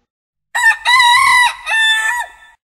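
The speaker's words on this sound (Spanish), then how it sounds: "La gallina." A rooster crows loudly and close up, a single drawn-out cock-a-doodle-doo in several segments, heard alone on a farm with no talking.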